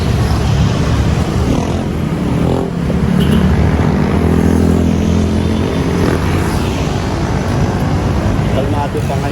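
Road traffic beside a small budget street market in Tabok, Mandaue: a constant roar of passing motorcycles and cars, loud and close, with people talking over it.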